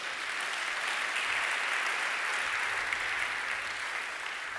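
A church congregation applauds steadily during a Sunday service, dense continuous clapping from many hands filling the space at an even level throughout.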